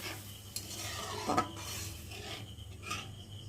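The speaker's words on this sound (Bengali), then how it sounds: "একটু ভালো করে নেড়ে দেবো।" A spoon stirs curry with added water in a pan, soft scraping strokes and a faint simmering hiss, with a couple of sharper clinks against the metal.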